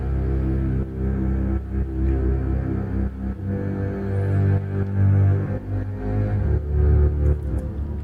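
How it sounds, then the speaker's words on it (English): A double bass legato patch from Ableton's stock instruments plays low, sustained, humming notes that glide smoothly into one another, loud and alone, with a throbbing bass pulse throughout. "next instrument, which I believe is a double bass legato, and also just from Ableton's default instruments."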